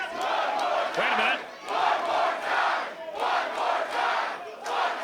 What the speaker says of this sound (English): If I hear the crowd correctly, they're saying 12 more times, please.